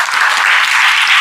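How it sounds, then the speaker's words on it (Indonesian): Audience applause at a talk, a dense burst of clapping from a crowd for just over a second. "Kita tepuk tangan dulu dong"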